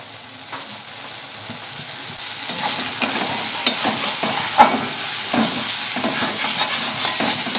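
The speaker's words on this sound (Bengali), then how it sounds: "মশলা ভালো করে কষানো হয়ে গেছে" Spice paste for echor chingri, the Bengali young-jackfruit and prawn curry, sautés in a pan with a steady broadband sizzle and spatula stirring scrapes, a near and continuous frying sound without talk.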